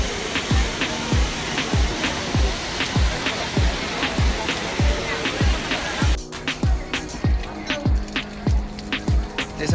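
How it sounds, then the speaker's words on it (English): The Trevi Fountain in Rome pours in a constant, loud broadband rush, with a steady thumping beat running on top throughout. "Trevi Fountain."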